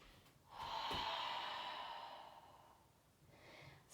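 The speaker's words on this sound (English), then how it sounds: "Hands to the mat, forward fold. Nice long breath out." A long, slow exhale during a yoga forward fold, breathy and soft, swelling and then fading over a couple of seconds, with a faint breath afterward in a quiet room.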